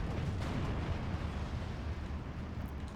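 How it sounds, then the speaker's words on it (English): Artillery shells land in a Steel Division 2 World War II battle, striking an IG-33 gun position. A continuous, dense rumble of blasts and booming impacts stays loud and steady throughout, with no voices. "friendly artillery finally landing on the IG-33"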